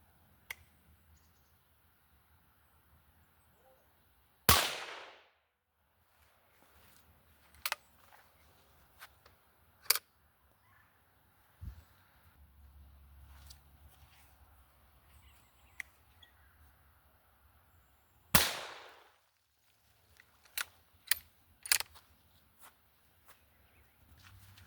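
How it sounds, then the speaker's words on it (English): Two sharp rifle shots, one .22LR and one .17HMR, fired outdoors at a target about 5 yards away, each a loud crack with a short decaying tail, set apart by quiet stretches with faint footsteps, clicks and birds. "So we're going to go ahead and shoot this for about 5 yards away"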